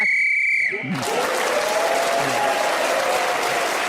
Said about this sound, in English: as the whistle went